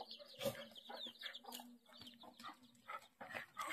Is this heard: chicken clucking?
yes